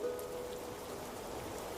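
Rain falls steadily as a soft, even hiss of drops on a surface, faint and continuous throughout, with no voices.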